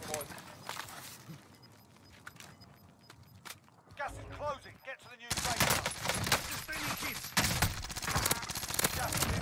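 Bursts of PPSH submachine gun fire in Warzone, a military shooter game, rattle in rapid volleys, growing louder and denser toward the end, with a voice talking over the action.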